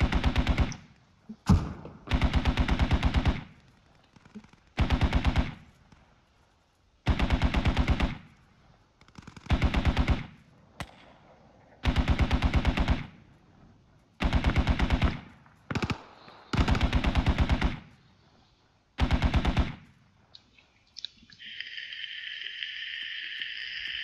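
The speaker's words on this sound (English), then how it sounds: "Where are they shooting from?" Machine-gun fire in the tactical shooter Squad, repeated sustained bursts of rapid shots separated by short pauses, loud and close, ending in a steadier tonal hum.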